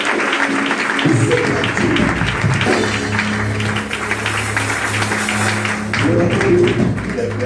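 A church congregation claps steadily to welcome a doctor to the front, with music playing underneath and a voice briefly speaking over the applause.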